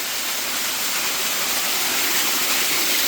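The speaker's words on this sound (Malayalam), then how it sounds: "ഇങ്ങനെ ഒഴുകി അടുത്ത സ്ഥലത്തേക്ക് പോയിക്കൊണ്ടിരിക്കുന്നുണ്ട് ഈ ഒരു വെള്ളച്ചാട്ടം" Waterfall water rushing in an unbroken broadband roar, loud and steady throughout with no voices.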